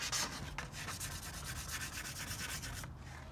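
A car wheel is scuffed by hand with 320-grit sandpaper before painting, giving a close, steady rasping rub in quick back-and-forth strokes with no talking.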